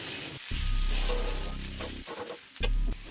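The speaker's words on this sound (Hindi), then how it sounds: "फ्राई कर दिया" A salted vegetable mixture frying in a little oil on a tava griddle, a loud close sizzle with a low rumble, broken by brief pauses and bursts as it is moved around.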